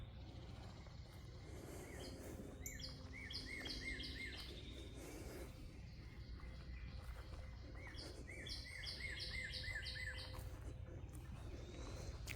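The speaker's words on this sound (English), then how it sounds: "I love the sound of all the birds." Birds chirp and trill on a morning nature walk in a back yard, several bright call bursts repeating in phrases over a faint steady outdoor hum, distant and quiet with no talking.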